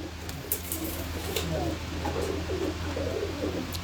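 Pigeons coo nearby in soft, repeated throaty calls over a steady low background hum, with a few sharp brief clicks.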